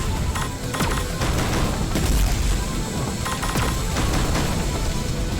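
Rapid gunfire bursts and explosions from the video game Panzer Dragoon Remake, dense crackling volleys and booms layered over a busy soundtrack, loud and continuous.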